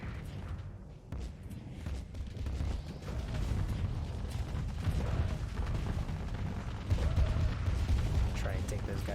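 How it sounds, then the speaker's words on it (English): Hurricane MIRV missiles from a barrage thud and rumble in deep, repeated explosions during a Starsector space battle, a rolling low boom continuing under a man's speech. "I say that as a barrage of missiles comes out towards us"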